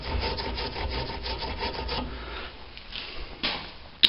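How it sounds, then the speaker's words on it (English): Close, rhythmic scrubbing strokes on a 1962 Cadillac part soaking in cleaner, a fast back-and-forth rasp for about two seconds that slows into softer rubbing, ending in a sharp click. "Squirt some more on it, keep on scrubbing it."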